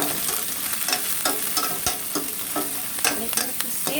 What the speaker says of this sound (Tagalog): Sauteing the onion and garlic